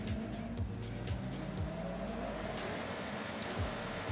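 Racing video game car engine drones steadily at high revs with repeated gear-shift pitch drops and tire noise, loud and continuous throughout.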